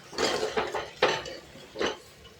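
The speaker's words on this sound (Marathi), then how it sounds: "आता ही कोळंबी म्हटल्यानंतर आता चांगलं 5-10 मिनटं परतून घेऊया" Prawns being sautéed in a pan: three or four distinct scraping, clattering stirs of a utensil against cookware, close and fairly loud, with quiet gaps between them and no talking.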